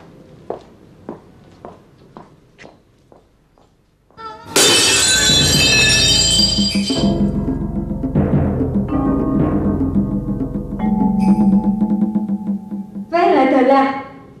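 After a run of soft footsteps, a cherished key falls and breaks with a sudden loud, sharp shattering crash and a ringing tail, followed later by another brief burst of clatter.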